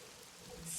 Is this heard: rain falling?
yes